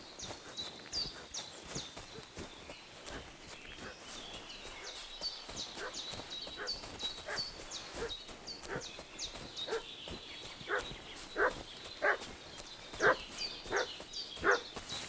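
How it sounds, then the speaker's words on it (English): A dog barks repeatedly in the video game Kingdom Come Deliverance 2, a rapid, excited run of barks at medium distance that grows louder and more insistent over time against a faint outdoor background. "What's that dog making such a fuss about?"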